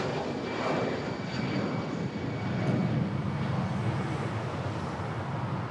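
Philippine Airlines jet airliner taking off at Manila Airport with an early rotation, a steady broad engine roar held close and fairly loud throughout, with no voices over it.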